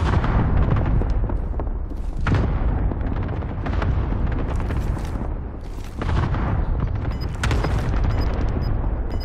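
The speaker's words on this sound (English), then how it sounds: "Throw a fat ass cluster strike over there." A heavy cluster strike in a Call of Duty battle-royale match, heard as a dense run of booming explosions and rumble. The blasts hit over and over, loud and close, with fresh bangs near the three-, six- and eight-second marks and no talk.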